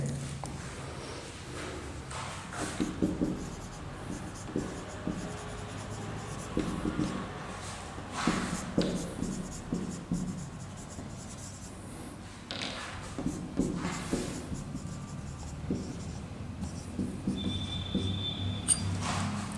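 Marker or chalk writing on a board in a chemistry lecture, faint scratchy strokes in irregular bursts with short pauses, quiet and close, running throughout.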